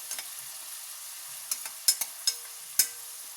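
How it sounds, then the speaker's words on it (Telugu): Onions sizzle in hot oil for a chicken curry, a quiet steady frying hiss broken by several sharp scraping stirs of a spoon against the pan. "ఇలా ఒక నిమిషం పాటు ఆనియన్ ఫ్రై చేసుకుందాం అంట ఆయిల్ ఇలా బాగా ఫ్రై చేసుకునేసి"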